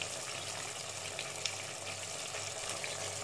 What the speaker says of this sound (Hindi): ये पानी उबल रहा है